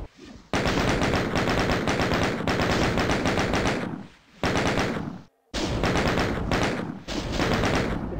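Enemies in a video game fire sustained loud bursts of rapid machine-gun fire, three long volleys separated by brief gaps, harsh and close with no voices.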